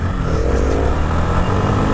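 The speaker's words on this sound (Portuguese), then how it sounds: "Primeiro dar uma volta de leve pra sentir a moto" A 2018 Honda CB Twister 250 motorcycle rides along a street, its engine a loud, steady drone with a gradual rise in pitch as it picks up speed.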